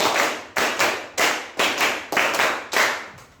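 Classroom of sixth-grade pupils clapping together in a counted pattern, seven sharp, loud group claps in steady rhythm, each ringing briefly before the next.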